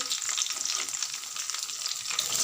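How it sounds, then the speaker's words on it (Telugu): Cumin, two green chillies and two dried chillies sizzle in two spoons of hot oil for a curry, a steady bright crackling fry close by with no talk. "2 స్పూన్ల ఆయిల్ పోసి జీలకర్ర, 2 పచ్చిమిరపకాయలు, 2 ఎండుమిరపకాయలు"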